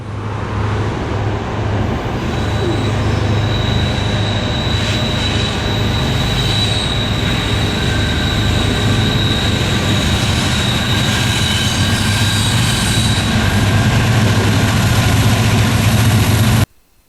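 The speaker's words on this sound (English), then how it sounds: "One of the most handsome locomotives on rails" A Delaware and Hudson heritage-painted locomotive rolls past on the Sunbury Line north of Scranton, the former Lackawanna main line, with a loud, steady engine rumble, rail-car clatter and faint squealing wheels for most of the clip before cutting off abruptly.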